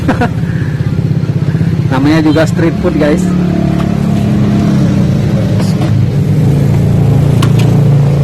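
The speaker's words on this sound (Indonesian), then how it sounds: "Ya ada suara-suara motor ya biasain aja ya, harap dimaklum ya." Motorcycles and traffic rumble past a roadside street food waffle stall in Indonesia, engines droning loudly and revving close by throughout while people talk over the noise.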